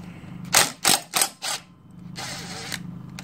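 A wrench working a bolt out of a seized ATV engine during a teardown, four quick close ratcheting bursts followed by a longer softer run of clicking, with a low hum underneath.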